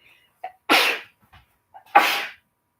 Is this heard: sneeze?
yes